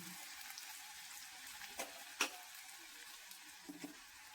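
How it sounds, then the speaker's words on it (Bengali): Onions frying gently in a pan for Bengali-style poha give a faint, steady hiss with a few soft spoon clicks and stirs. Nobody talks. "পেঁয়াজ শুধু এই একটু হালকা হালকা করে ভাজবো, খুব লাল করে ভাজবো না"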